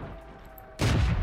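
A tank cannon fires on the move in the World of Tanks video game, a sudden loud blast with a rumbling tail following a brief quieter stretch of engine hum.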